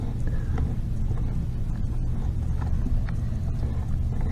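A Harley 5-speed transmission turns over in neutral on a bench with everything inside spinning, making a steady close low mechanical rumble and whir with faint ticks and rattles, and no talk.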